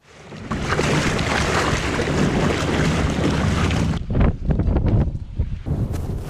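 A roaring motorboat engine and rushing water blend with heavy wind buffeting the microphone, steady and loud, then breaking into choppy gusts near the end.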